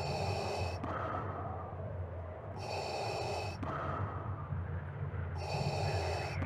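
A voice imitates Darth Vader's mechanical respirator breathing from Star Wars, with slow alternating inhales and exhales, each hissing breath distinct and steady, close and alone.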